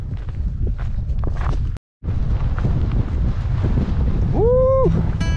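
Strong wind buffets the microphone on a high Colorado mountain trail, a steady loud roar broken by a brief silent gap, with a short whooping voice near the end.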